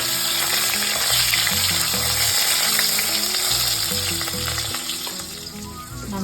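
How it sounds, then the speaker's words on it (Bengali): Potato pieces fry in a pan with cumin, bay leaf and dried red chilli for mutton curry. The sizzle is steady and continuous throughout, with faint low tones in the background and no talking. "এবার আলুটা একটু ভাজা ভাজা হবে"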